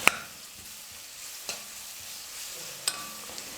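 Onions frying in oil with ginger garlic paste for chilli kothu parotta, a faint, steady sizzle with a few sharp clinks of a stirring spoon against the pan, no voices.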